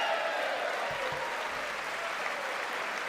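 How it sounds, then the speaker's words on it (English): A large audience at the State of the Union address claps steadily throughout, a dense sustained roar of hands with no voices standing out. "there were a lot of clapping from both sides"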